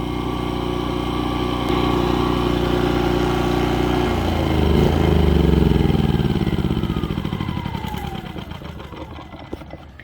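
A generator engine runs after its carburetor was cleaned, a loud continuous mechanical drone that swells and rises in pitch midway, then eases slightly, with no talking.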